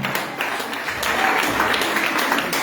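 A church congregation at a testimony festival worship service in Guiglo applauds, giving steady, dense clapping that carries loud and close through the whole moment.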